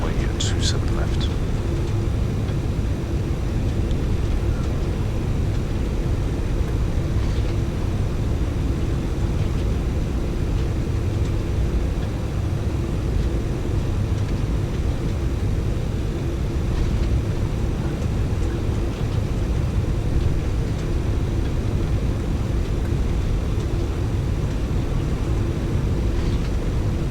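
Simulated Boeing 747-8F jet airliner in X-Plane 11, a steady low engine rumble and hum lining up on runway 27 left, with a faint tonal whine and brief clicks near the start.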